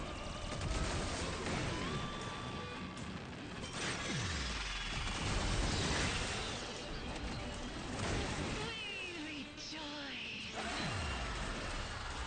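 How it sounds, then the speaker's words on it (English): Rapid video game gunfire blends with mechanical clatter and whooshing effects, a dense, loud, continuous barrage with no gaps. "that rate of fire is so insane"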